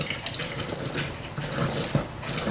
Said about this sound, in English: if this isn't quite enough, I'll just make up the rest with water